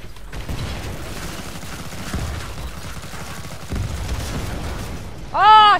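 Gunfire rattles in the co-op shooter Killing Floor 2, a steady stream of moderately loud rapid shots over busy game noise, with a sharp electronic chime at the end.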